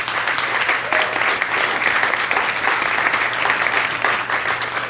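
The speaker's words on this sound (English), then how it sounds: "give yourself a round of applause" An audience at a conversational hypnosis seminar breaks into a dense, even wash of applause, many hands clapping at once and sustained throughout.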